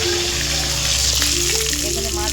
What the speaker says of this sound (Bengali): পোনা মাছ ভাজা হচ্ছে।